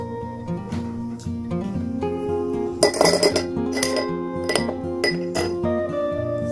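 Glass clinking while fresh potato juice is strained, with bright chinks and taps against a glass over a soft continuous background, near and close-up, with no voices.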